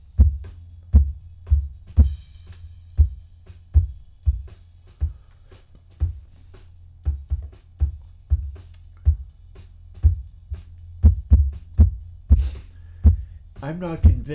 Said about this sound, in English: this design must be able to get me that Dark Side of the Moon heartbeat sound by virtue of taking the same type of sound,